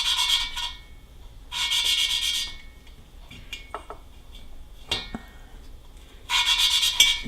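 Valve lapping by hand on a Porsche 912 engine, a suction-cup stick twisting a valve against its seat with silicon carbide lapping compound: bursts of gritty rubbing rasp separated by pauses and small clicks, close and alone.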